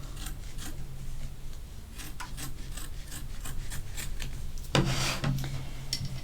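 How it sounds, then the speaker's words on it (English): Scissors snip and rub through fleece batting while trimming a fabric pumpkin coaster, soft and close, with one brighter cut near the end. "Now let's go ahead and trim that batting."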